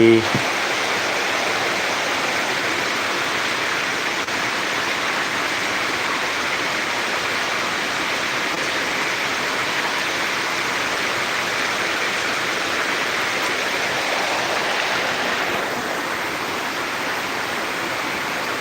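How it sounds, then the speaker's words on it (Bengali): Heavy rain pours down at night, a dense, unbroken roar of close, loud hiss that holds steady throughout. "বৃষ্টির শব্দ মনে হয় তোমরা শুনতে পাচ্ছ"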